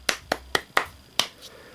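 Single person clapping hands, five sharp claps in an uneven rhythm, close and distinct with short silences between them.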